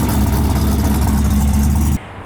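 A 1974 Chevy C10 truck engine runs close and loud with a steady low rumble and slight rev swells, then cuts off abruptly near the end.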